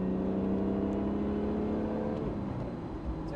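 A BMW E46 330i with headers and a valved muffler, valves closed, drones steadily as the car accelerates, then its engine note drops abruptly near the end, a smooth, moderately loud exhaust tone with no talking.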